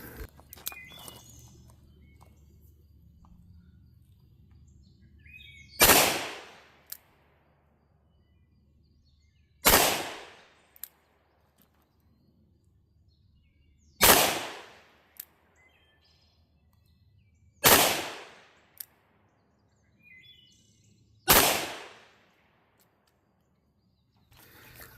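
Five loud, sharp gunshots from a .38 Special revolver with a 6-inch barrel firing Armscor ammunition outdoors, spaced roughly four seconds apart, each a crisp crack with a short decaying tail, with birds chirping faintly between shots.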